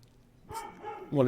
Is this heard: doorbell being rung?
no